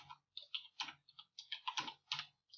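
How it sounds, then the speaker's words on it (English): Quiet, close computer keyboard typing in an irregular burst of clicks and taps, several keystrokes in quick clusters with short pauses, entering a search term. "I'm typing it in this is the little search where I can search for my topic."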